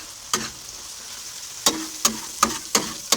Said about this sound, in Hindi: मसालों को अच्छी तरह से मिक्स करेंगे।